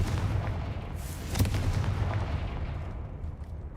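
A Confringo blasting spell explosion from the Hogwarts Legacy video game gives a sharp boom near the middle of a dense, rumbling game soundscape, with a low steady roar continuing throughout.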